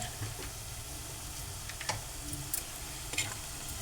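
Spatula stirring garlic paste into fried onions, green chillies and curry leaves for a prawn curry, with a soft steady sizzle under scattered light scraping ticks, close and fairly quiet.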